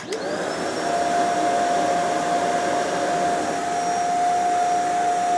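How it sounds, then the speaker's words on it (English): Vacuum cleaner with a universal motor powered from a portable power station, spinning up quickly into a steady loud whine with a sustained high tone, running continuously and close. "we're gonna point that at the screen while I start the vacuum"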